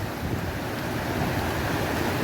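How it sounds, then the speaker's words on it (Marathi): Water from Bhivapur Lake in Amravati rushes and churns in a steady, loud broadband roar, close to the microphone, with wind buffeting mixed in and no voices. "पाणी बॉम्ब वाहून राहिला इथं"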